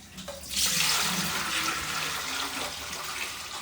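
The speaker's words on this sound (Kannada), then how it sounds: "ನೀರು ಕಾಯಕ್ಕೆ ಇಟ್ಕೊಳ್ಳೋಣ ಸೊ ಫಸ್ಟು ಕರಡೆ ಬೇಯಕ್ಕೆ ಹಾಕೋಬೇಕಲ್ವಾ ಸೊ ಅದಕ್ಕೆ ನೀರು ಇಟ್ಕೊಳ್ಳೋಣ" Tap water gushes into a large cooking pot, a steady close splashing rush that swells quickly and keeps running without pause.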